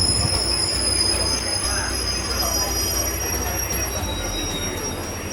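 A train leaving Punalur station on the Kollam–Chenkotta line, heard from on board as a loud, steady rumble with high, sustained wheel squeal throughout, slowly fading slightly toward the end.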